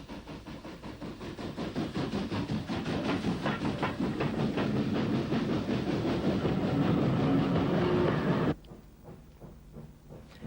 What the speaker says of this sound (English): NCC Mogul number 97, Earl of Ulster, powers a long freight across the bridge over the River Bann and into Portadown station